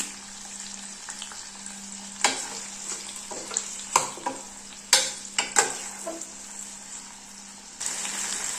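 Tomatoes and curry leaves sauté in hot oil for a drumstick and dal sambar, giving a steady close sizzle broken by a series of sharp stirring scrapes and clinks against the pan.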